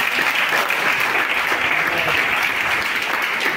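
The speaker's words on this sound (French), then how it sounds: "je voudrais qu'on acclame le Seigneur pour la maison entière" A church congregation bursts into sustained applause and cheering for the Lord, dense and steady throughout with no break, filling the room at close range.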